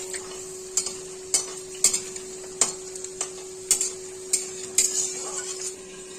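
Potato pieces are set one at a time into a frying pan, about eight distinct taps and clacks at a steady pace over a soft continuous sizzle, with no talking.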